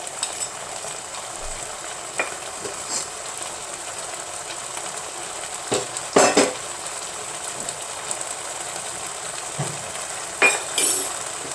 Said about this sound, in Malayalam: കുറേശ്ശെ കുറേശ്ശെ ഒഴിച്ചിട്ട് ഇങ്ങനെ ഇളക്കുക